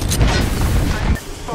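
A thrown grenade explodes in Apex Legends, a loud, short boom with a rumbling low tail that cuts off abruptly.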